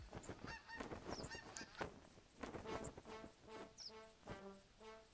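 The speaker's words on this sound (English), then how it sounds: "All right, here come the geese." Geese honking in the hunting game theHunter Classic, a flock giving many overlapping rhythmic honks that carry on steadily, fairly close and clear with no talk.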